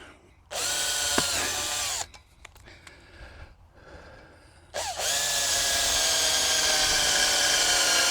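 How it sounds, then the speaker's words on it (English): A power drill whirs loudly for about a second and a half, stops, then starts again and runs steadily for several seconds, close by, with clicks and handling noises in the pause, while working on anchor upgrades for a dead-man tower. "I think I'll drill now"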